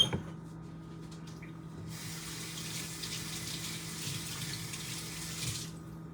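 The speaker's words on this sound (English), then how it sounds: "Forgot to rinse out my measuring cup that I needed." Tap water runs steadily into a kitchen sink to rinse out a measuring cup, a soft hissing stream that starts after a brief pause and stops before the end, with a low hum underneath.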